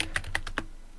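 A computer keyboard clicks out a short Linux command, about five quick, crisp keystrokes close up in roughly half a second, then quiet.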